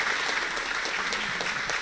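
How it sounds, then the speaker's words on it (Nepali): An audience at a cultural stage program claps in steady, dense applause, loud and continuous throughout without a break. "जोरदार ताली दिउँ"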